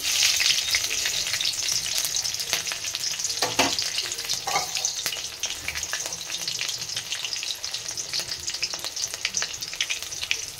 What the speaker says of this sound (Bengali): প্রথমে দিয়ে দিলাম পাঁচফোড়ন, তারপরে দিয়ে দেব কাঁচা লঙ্কা কুচি